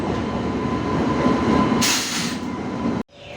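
The Silchar Kanchanjunga Express rolling into Lumding station, with a loud, steady rumble of rail cars and wheels, a burst of hissing brake noise midway, and an abrupt cut near the end.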